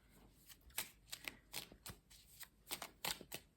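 Tarot cards are shuffled by hand, giving a close, soft run of rapid riffling flicks and slaps in irregular bursts over a few seconds, with no talking.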